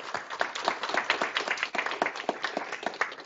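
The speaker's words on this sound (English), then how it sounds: "Give a round of applause to our panelists again" Audience applause for a panel of speakers at a property technology event, steady dense clapping from a crowd throughout with no talking.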